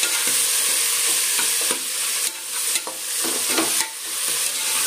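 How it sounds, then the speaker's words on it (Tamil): Chopped onions and tomatoes sauté in hot oil for chicken biryani, a steady close sizzle with intermittent scraping stirs of a spoon against the pan. "இப்போ இது எல்லாம் நல்லா வதக்கி வதங்கட்டும்."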